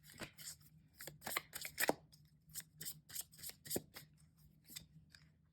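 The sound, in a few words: drawing and shuffling tarot cards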